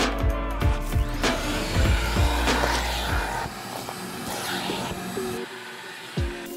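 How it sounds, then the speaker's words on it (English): A vacuum cleaner roars steadily up close on the floor mats of a 2008 Toyota Sienna, its pitch shifting as it is pushed across, with occasional bumps and knocks. "Take a brief pass on the mats with your vacuum"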